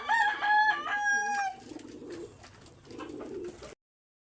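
Racing pigeons feed in a backyard loft, giving soft throaty coos and a couple of louder, sustained bird calls up close. Quieter rustling follows before the sound cuts to silence.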